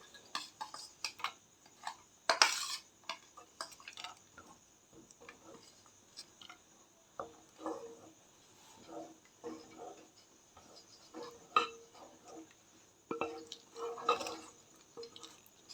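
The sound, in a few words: serving sorakaya payasam into a bowl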